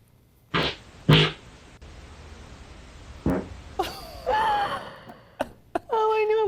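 A few short bursts and a low rumbling fart caught on a sleep recording against quiet room noise, followed by muffled voices and laughter.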